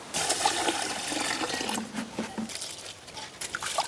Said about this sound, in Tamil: நாங்கள் இந்த அரிசியை கழுவி எடுக்க போகிறோம்